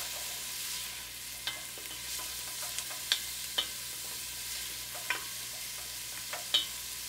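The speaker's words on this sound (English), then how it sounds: "Stir that around a little bit." Vegetables for a vegan pot pie sizzle gently in a pan over medium-high heat, while a utensil clicks and scrapes against it at irregular intervals, quiet and close, with no voices.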